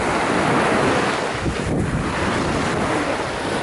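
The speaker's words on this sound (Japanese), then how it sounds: "波がいいですよね" Ocean waves at Zushi beach at night, a loud continuous wash of surf with wind rumble across the microphone, no voices.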